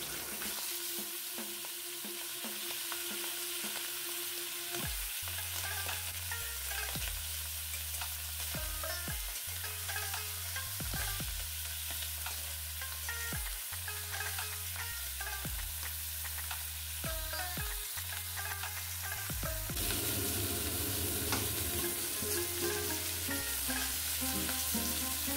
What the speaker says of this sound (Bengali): এবারে কড়াতে তেল গরম হলে মাছগুলো দিয়ে দেব।